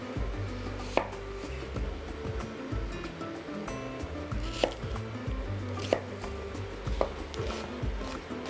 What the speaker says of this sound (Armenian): Կվերցնեմ 1 գլուխ սոխ, կկտրատեմ